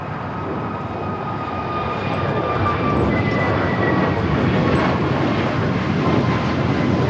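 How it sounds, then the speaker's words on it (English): A Qantas Airbus A380 arriving at LAX on the north side from Sydney, Australia, gives a loud, steady jet roar that holds constant and close throughout, with no talking. "Qantas Flight 11, the A380 Super, next arrival on the north side"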